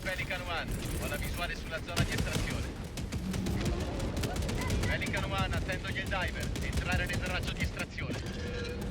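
Stalwart machine gun fire in Helldivers 2 rattles in dense, rapid bursts with crackling impacts and explosions throughout, loud and close, mixed with game effects and a voice talking over it.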